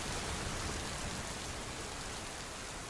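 Steady rain falling during a summer storm, heard from inside a small wooden hut by a riverbank; a dense, even hiss of drops holds at a constant level throughout with no pauses.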